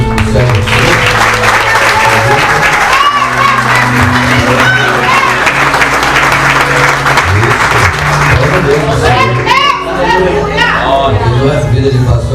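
Congregation applauding in a church, sustained dense clapping from a large crowd for several seconds, mixed with cheering voices and a speaker talking over it.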